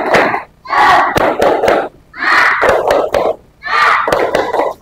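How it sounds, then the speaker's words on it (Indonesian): Classroom of students doing a rhythmic spirit clap during a math lesson, three bursts of patterned clapping and shouted chant with short pauses between, loud and close, voices mixed in with the hands. "tepuk semangat."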